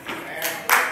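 An audience at a college comedy gig breaks into short bursts of clapping, two quick swells of applause within a second over a low murmur.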